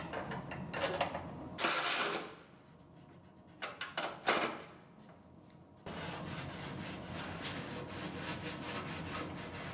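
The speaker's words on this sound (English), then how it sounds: "Now we'll put our bolts back in." Bolts being refitted on the front end of a 2018 Ford Explorer Limited AWD during collision repair, with bursts of ratcheting and metallic tool rattles, close and uneven, then a steadier mechanical whir.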